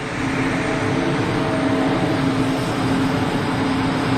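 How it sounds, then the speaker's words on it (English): A Swiss-registered EasyJet Switzerland Airbus A320 at Geneva Airport gives off a steady, loud jet roar with a sustained engine drone, continuous and unbroken throughout. "EasyJet Switzerland, Swiss registered A320"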